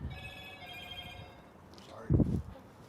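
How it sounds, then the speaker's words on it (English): A mobile phone rings with repeated electronic ringtone tones over the first part, fairly quiet and steady, followed by a short louder burst of a voice near the end. "I'm sorry, that's my phone."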